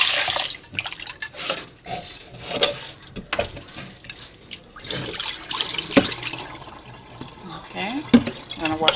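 Tap water runs and splashes over goat meat being washed in a sink for curry, close and uneven, with a voice talking over it.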